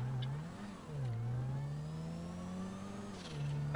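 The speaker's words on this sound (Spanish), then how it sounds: "Escucha el sonido del coche." A car engine in GTA 5 revs steadily, pitch climbing and dipping as it accelerates, with a sharp burst of noise at the very end.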